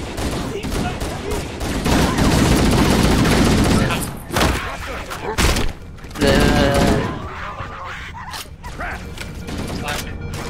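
Covenant weapons fire in Halo Combat Evolved in loud, sustained bursts over clanking mechanical game sounds, breaking into short gaps and renewed volleys, with a player talking now and then.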